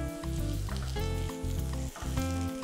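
Paprika and fried tomato sauté with vegetables in a pan, giving a sizzling hiss with stirring scrapes. A loud steady hum runs underneath, and there is no speech.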